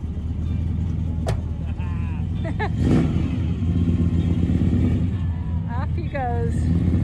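A car leaves a Mustang night car show, its engine revving and pulling away at mid distance. Crowd chatter and background noise carry on underneath, and a few short squeaky tones are heard partway through.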